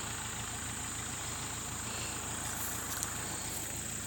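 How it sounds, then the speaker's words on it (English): An 80-horsepower farm tractor idles close by, a constant low rumble with steady mechanical hum and hiss, unchanging throughout with no voices. "And this is my tractor here."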